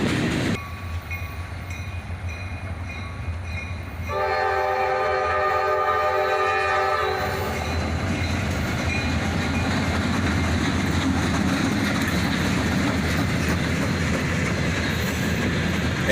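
A freight train led by SD40-2 locomotives rolls past on a sunny day, its air horn sounding a sustained, multi-tone blast midway. A heavy rumble and wheel clatter continue loud and close until the end.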